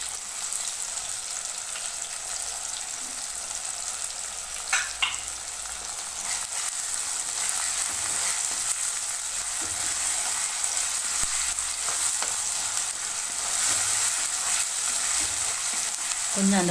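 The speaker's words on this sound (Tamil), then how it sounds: "கொஞ்சம் அந்த பச்சை வாசனை போகிற வரைக்கும் நம்ம வதக்கணும்." Ginger garlic paste sizzles in a pan as it is stirred for mint chicken, a steady close frying hiss with occasional scraping of the spoon, alone without talk.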